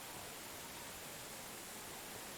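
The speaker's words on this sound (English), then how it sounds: "the rain effects are quite good. The sound effect's good." Steady rain in the medieval survival game Medieval Dynasty, a dense even hiss of falling water with a wet, diffuse texture, constant and unbroken with no voices.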